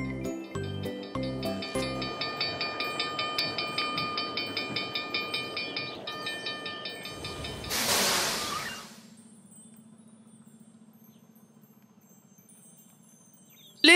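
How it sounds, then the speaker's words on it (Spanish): A cartoon train rattles past with rhythmic clickety-clack, then a hiss of steam bursts out before a quieter low hum remains. "Los trenes pasan por aquí."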